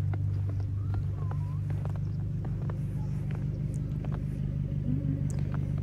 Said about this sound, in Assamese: গাড়ীখন সেইখন চলাই আছে মানে ষ্টাৰ্ট কৰিবলৈ ইঞ্জিনটো গৰম কৰিবলৈ চাই আছে